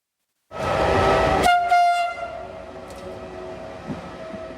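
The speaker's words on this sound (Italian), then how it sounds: "il treno espresso turistico di Ferrovie dello Stato" A Ferrovie dello Stato tourist express train near Agrigento sounds a loud, sustained horn blast, then keeps rumbling steadily along the rails with a brief second horn note.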